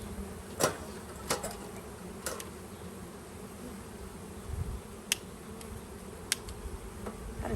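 Honey bees from an installed bee package buzz in a soft, continuous drone near the hive entrance, with a few sharp clicks and taps scattered through; no one speaks.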